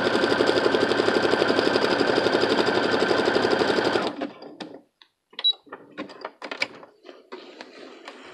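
A sewing machine runs a zigzag stitch at 2.5 width and 2.0 length with a presser foot, a steady close rapid rattle for about four seconds, then stops, leaving scattered handling clicks and small knocks.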